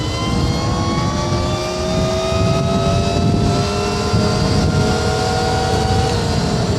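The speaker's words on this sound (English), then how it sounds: "listen to this noise of this bike" A REXX T01 electric bike is ridden at high speed, about 46 to 47 mph, with a loud steady motor whine that rises slowly in pitch over a constant roar of wind and road rush.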